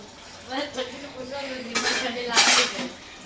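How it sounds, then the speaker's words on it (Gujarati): Cooking utensils are scrubbed and washed by hand, with two louder bursts of rough scouring and clattering close by, while people talk over the noise. "અહીંયા ઘસે છે વાસણ ઘસવાની તૈયારી કરે છે"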